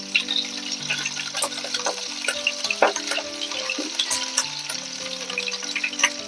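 Fish pieces pan-frying in hot oil for chilli fish, a loud, dense and steady crackling sizzle with scattered pops, heard up close and without talk.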